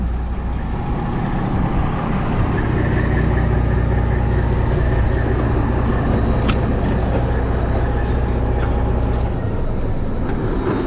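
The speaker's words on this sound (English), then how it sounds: "I'm gonna go ahead and shut the truck off" A truck engine idles on a farm, a steady low rumble holding unbroken throughout with one brief sharper click partway through, no voices over it.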